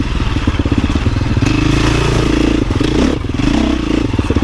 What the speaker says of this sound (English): a lot more engine braking